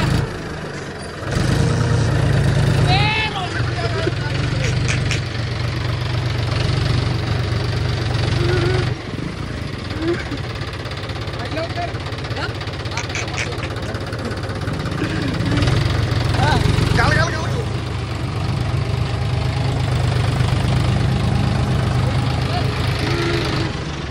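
A tractor's diesel engine idles with a steady low rumble throughout, close by, while people talk over it.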